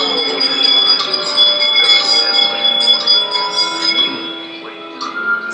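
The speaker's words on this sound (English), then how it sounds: "give us a hint by ringing a bell" A bell rings on the Disneyland Haunted Mansion ride, clear sustained metallic tones that overlap and decay against the ride's background, moderately loud and close.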